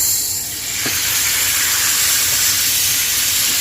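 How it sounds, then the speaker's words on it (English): Veal chops sear in a hot pan with a loud, constant close-up sizzle and hiss, one small spit near the start, and no speech. "what we're gonna do now is we're gonna sear the meat"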